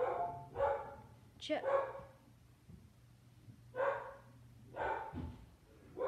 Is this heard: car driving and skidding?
no